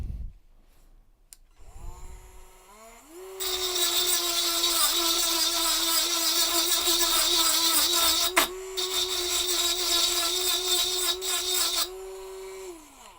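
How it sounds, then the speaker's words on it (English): A cheap cordless 12 volt rotary tool with a ceramic disc grinds stainless steel, giving a loud, sustained high whine that spins up, holds steady with a brief scraping catch partway, then winds down. "it is grinding, but I don't know"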